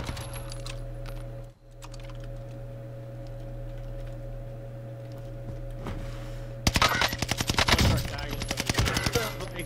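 Rapid gunfire bursts in a first-person video game shooter, starting loud and dense around the last third after a steady droning background with faint clicks.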